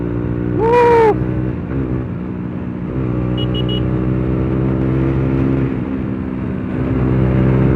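A modified motorcycle exhaust drones loud and close, with a sharp rev rising and falling early on before settling into a steady, throaty hum on a Sunday ride.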